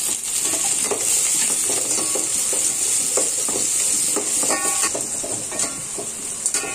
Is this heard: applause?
no